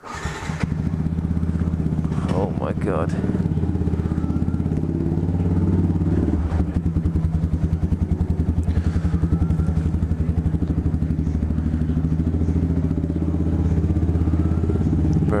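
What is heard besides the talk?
loud motorcycle engine in a storage unit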